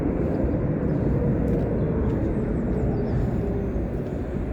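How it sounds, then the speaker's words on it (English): Steady, loud broadband jet roar of a large airliner landing at Heathrow with heavy thrust reversers, a continuous rushing rumble with no breaks, heard close by outdoors. "Hear that plane heavy on the reversers already."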